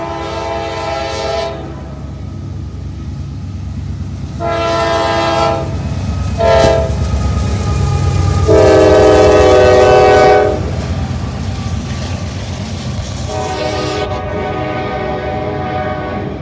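A CSX freight train approaches at Folkston, sounding a series of loud horn blasts in long and short bursts over a rising rumble of wheels and rail clatter that grows closer.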